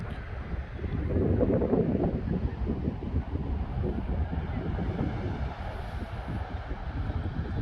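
Ocean surf at Gyeongpo Beach in Gangneung on a clear autumn day, a continuous broad roar of breaking waves mixed with gusty wind buffeting the microphone, swelling slightly early on and then holding steady.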